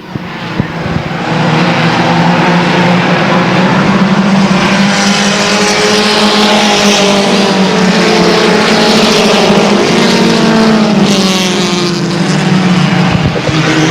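Race cars roar together around the Airborne Speedway oval in a 1999 race, a loud continuous engine drone with shifting pitch as the pack runs side by side for the whole stretch.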